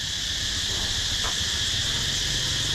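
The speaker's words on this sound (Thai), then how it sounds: "เสียงจิกจักจั่น" Cicadas on a university campus give a dense, continuous high-pitched drone that hangs steadily over the whole stretch, loud and near, with a faint brief rustle midway and no talk.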